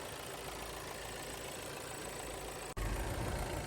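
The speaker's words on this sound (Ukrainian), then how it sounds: "Все тут нормально з двигуном, працює рівно" A VW Tiguan 2.0 TDI diesel engine idles with a steady, even rumble, broken briefly by a momentary dropout before continuing at the same level.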